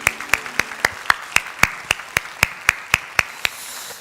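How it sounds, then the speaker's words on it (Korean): A Korean church congregation claps in unison at a steady, even beat, about a dozen sharp, loud claps in a row, with no talking. "박수로 하나님 앞에 영광을 드리겠습니다."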